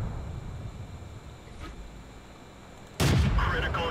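A single loud tank cannon shot from the video game World of Tanks booms out sharply near the end, after several seconds of low engine rumble.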